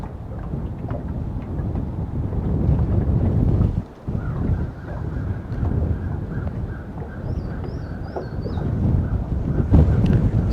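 Heavy wind buffets the microphone while fly fishing, with continuous low rumbling gusts, briefly dropping out once, with a faint high whistle drifting through the background.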